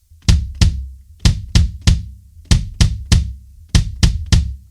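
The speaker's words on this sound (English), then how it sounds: "just the kick drum is going to sound like this." A kick drum plays alone in a syncopated pattern of deep, punchy thumps, grouped in twos and threes with short rests between.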